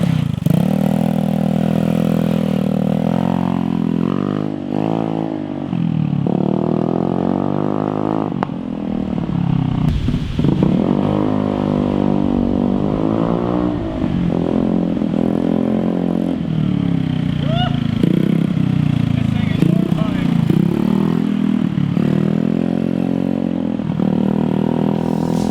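A Metruck motor, run for the first time and still needing its idle sorted out, chugs at idle and revs up and down in repeated surges, close and loud, with a rough, clattering edge.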